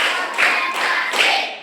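A class clapping together in counted rhythm, three distinct group claps spaced evenly, close and fairly loud.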